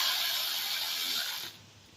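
A ratchet snugs the rear spark plugs on a 2007-2016 GMC Acadia 3.6L V6, making fast, close, continuous clicking for about a second and a half before it stops.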